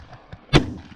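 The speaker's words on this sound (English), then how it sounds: "We fired about as many shells through this thing as we could stand to" One sharp, loud blast from a short shotgun fired outdoors, a sudden crack after a couple of faint knocks, decaying quickly.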